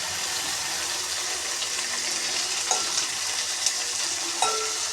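Chopped tomatoes fry for curry in a pan, giving a constant bright sizzle with a few soft clinks and stirring knocks near the end, close by with no voices.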